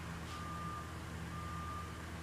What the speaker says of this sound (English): I'm sorry for the car noise.